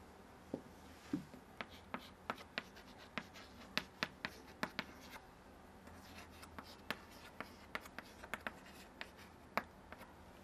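Chalk strokes from a teacher writing sentences on a classroom board, heard as a steady series of short, sharp taps and scratches spaced irregularly, fairly close and quiet against a low room hum.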